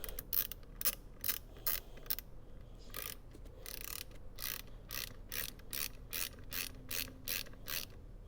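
Ratchet clicking in quick bursts while a bolt is tightened on the rear seat of a 1991 Mercedes-Benz 560 SEL, close and crisp, with short pauses between strokes and no talking.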